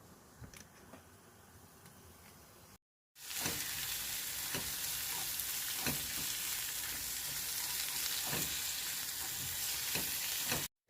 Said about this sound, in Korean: 올리브오일 한 스푼을 넣고 야채를 넣고 볶습니다.